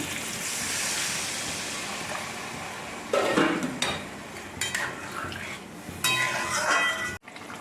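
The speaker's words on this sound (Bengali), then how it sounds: "এবার আমি গরম জল দিচ্ছি" Hot water is poured into sautéed vegetables in a pan for a thin katla fish curry with green mango, a rushing splash and sizzle followed by metal spoon clinks against the pan, close, with a voice speaking partway through.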